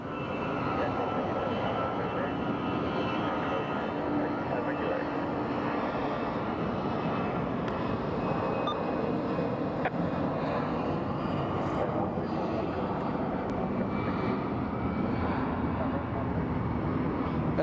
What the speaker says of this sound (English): So American 283 is lining up for its wait and departure.